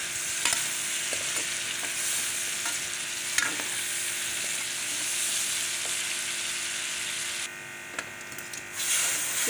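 Chicken pieces frying in hot oil in a home kitchen, giving a steady, loud, close sizzle with occasional crackles and pops and a brief dip near the end, with no talking.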